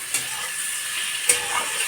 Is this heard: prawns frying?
yes